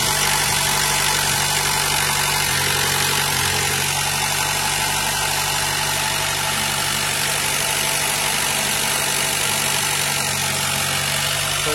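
A car engine idles steadily during radiator and thermostat work, a constant low hum with a faint vibration that holds at one level and carries on alone without talk.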